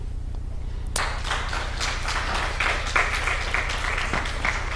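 A crowd at an Africa Children Summit breaks into applause after about a second of near quiet, then keeps up a full, continuous wash of clapping that holds its loudness to the end.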